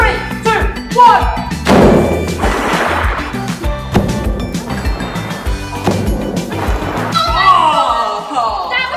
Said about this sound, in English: Liquid nitrogen, cloud explosion